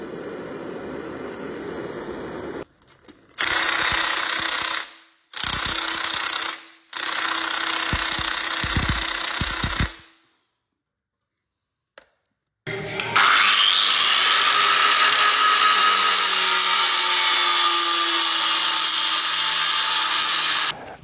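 A power tool cuts through a seized screw that had already been heated. Three loud short bursts come with pauses between them, then a quiet gap, then a long, sustained, shrill grinding close by.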